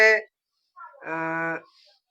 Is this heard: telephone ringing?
no